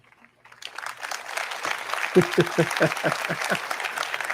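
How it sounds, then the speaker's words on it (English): Off-cue audience clapping heard during a live reaction to a Google I/O keynote: applause swells in from near silence and holds as a steady crowd patter, with a voice talking over it midway. "Off cue clapping."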